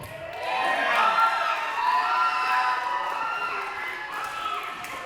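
A wrestling crowd at an indoor King of Sports Wrestling show in Yantis, Texas cheers and shouts together in a sustained, fairly close roar with overlapping voices that swells and then gradually eases.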